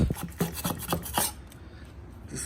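Scraping old oil off an engine valve cover gasket, a series of short rasping scrapes in quick rhythm, close and fairly loud, fading into quiet room noise.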